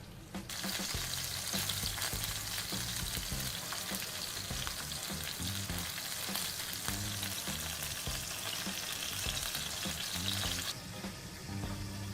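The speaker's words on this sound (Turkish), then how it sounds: "Ve yine ocağımın altını açıp hafifçe kızartıyorum." Peppers fry vigorously in a pan, a dense crackling sizzle with occasional stirring, steady and close, easing slightly near the end.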